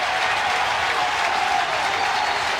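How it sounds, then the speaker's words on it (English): A college baseball crowd at an NCAA regional game claps and cheers, a dense sustained wash of applause from a large stadium audience, loud and even throughout. "Crowd feeling it."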